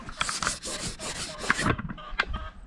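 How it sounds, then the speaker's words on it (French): Cloth wiping a camera lens clean, close rubbing strokes in a quick rhythm of several swipes, dry and scratchy, ending with a couple of light taps and no speech. "je vais vous nettoyer l'objectif quand même"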